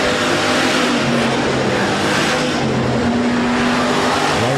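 Hobby stock race cars roaring around the oval at Rapid Speedway during a late-race battle, a loud continuous engine drone with shifting pitch as cars pass close by, no speech over it.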